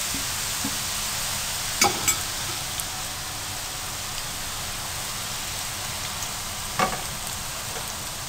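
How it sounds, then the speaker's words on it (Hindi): Papdi dough pieces fry in hot oil with a steady, even sizzle and crackle, joined by a few sharp clinks of a utensil near the pan. "अब पापड़ी शीट्स को आपने छोटे छोटे टुकड़ों में काट लेना है और फिर इसी ऑयल में हम पापड़ी को फ्राई कर लेते हैं"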